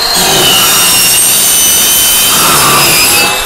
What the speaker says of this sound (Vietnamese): làm công trình cắt sắt nhanh, chính xác, đưa vào hàn luôn